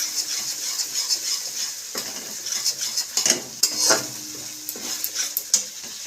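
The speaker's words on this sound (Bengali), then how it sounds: "এরপর আমি খুব ভালো করে নাড়তে হবে, কারণ ওই চারমগজ কাজু বাদামটা যদি কড়াইতে লেগে যায়।" Cashews and charmagaj melon seeds stirred in a kadai over low gas, a utensil scraping and clinking against the pan in steady strokes over a soft sizzle, close and fairly loud with no talking.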